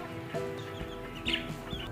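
Chickens and roosters cluck in a cage, with a short burst of close, fairly quiet fowl calls and no talking.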